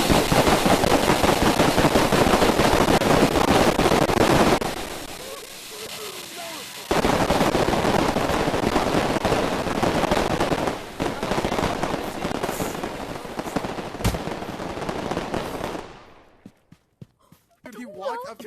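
Dense bursts of fireworks explode in the video game A Township Tale, heaped into rapid crackling barrages with a brief lull, then scattered loud pops that fade to sparse bangs near the end, while players shout and talk over them.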